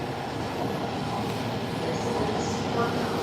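Washington Metro Silver Line 7000 series Kawasaki train riding along, a steady loud rumble of wheels and car noise filling the interior with no pauses.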